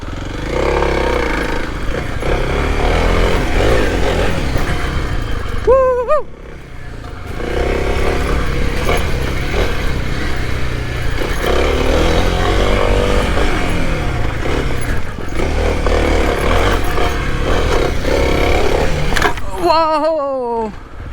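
A Kawasaki KLX 300 dirt bike rides rough technical trails and hillclimbs, its engine droning and revving loudly for about twenty seconds with clattering over terrain and two sharp rev bursts.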